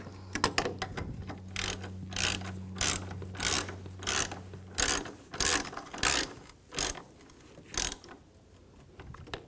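A hand ratchet clicks in about ten quick bursts, close and clear, snugging down the bolts on a 2011–2018 Volkswagen Jetta 2.0L coolant reservoir, with a low hum beneath the first half.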